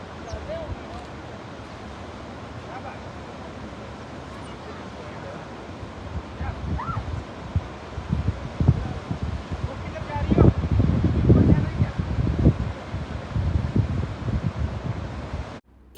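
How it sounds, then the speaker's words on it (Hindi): Strong wind gusting past the microphone alongside the roar of the fast-flowing Kunhar River on the route from Naran to Babusar Top, a continuous loud rush that swells louder in the second half. "इस जगह पर हवा का प्रेशर इतना ज़्यादा था और साथ में दरियाए कुनहार की तेज़ आवाज़"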